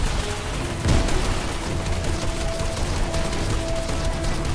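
Grenade launcher fire in Fortnite's Horde Rush mode during a boss fight: a dense burst of booming explosions and rapid gunfire, with a sharp blast near the start followed by continuous loud battle noise.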